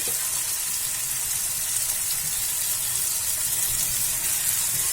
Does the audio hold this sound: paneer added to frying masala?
yes